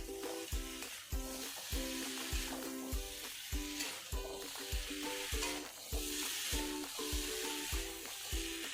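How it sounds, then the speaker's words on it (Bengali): Cauliflower being stirred with spices in a pan, a rhythmic series of regular scraping strokes over a soft sizzle, with a tonal hum running beneath. "দিয়ে ভালো করে নাড়াচাড়া করে নেব যাতে ভালো করে মিক্সিং হয়ে যায় মশলাটা"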